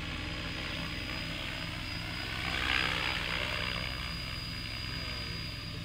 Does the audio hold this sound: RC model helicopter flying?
yes